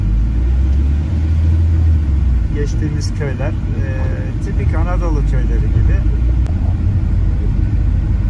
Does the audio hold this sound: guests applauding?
no